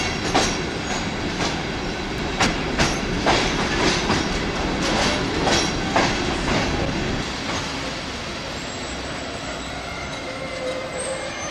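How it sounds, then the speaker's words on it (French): Trans-Siberian passenger train rolling along the rails near Minsk, a steady loud rumble with rhythmic wheel clicks and occasional squeals, continuous and close, no voices. "Notre train entre en gare de Minsk à 21h28."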